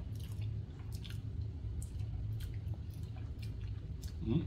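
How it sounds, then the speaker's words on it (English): Someone eats spaghetti and meatballs, with soft, moist chewing and squishing close up over a steady low background hum and no talking. "Let me try some of this spaghetti."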